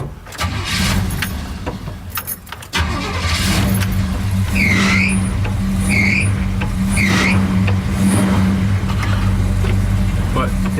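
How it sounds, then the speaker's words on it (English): Loud wind rushing and road roar inside a moving car with a Quadrajet four-barrel carburetor after a carburetor adjustment, with a steady low engine hum throughout and a few short high squeaks. "Sorry if wind noise is high."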